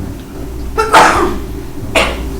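A sneeze bursts out once during a city council meeting, sharp and close, followed by a second, shorter burst a moment later over low room hum; a person speaks briefly nearby.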